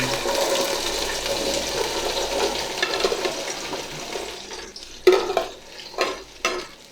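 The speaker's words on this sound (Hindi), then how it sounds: "ये मैंने सारी भिंडी इसमें डाल दी है और अब मैं इसको करूँगा फ्राई" Loud, steady frying sizzle of okra in hot ghee, with stirring and a few sharp clatters of a utensil against the pan near the end.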